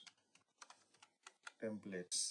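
Quick clicking keystrokes on a computer keyboard, with a few sparse taps under a man's speech, then a denser close burst of typing near the end.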